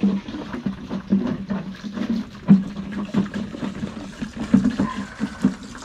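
Water being changed in chicken drinkers on a farm: irregular sloshing and splashing pulses, close and moderately loud, over a low watery rumble, with no talking.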